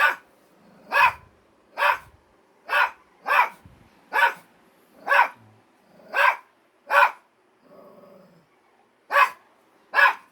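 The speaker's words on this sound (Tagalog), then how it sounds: "Tumatawal yung aso ko, aso." A dog barks repeatedly, about a dozen sharp, loud barks in a steady rhythm, with a brief low growl in between.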